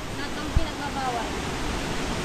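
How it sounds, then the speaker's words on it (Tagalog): Rushing water at Aliwagwag Falls in Cateel, Davao Oriental: a steady, broad roar of falling water fills the whole clip, with one brief thump near the start. "Ragasan ng tubig."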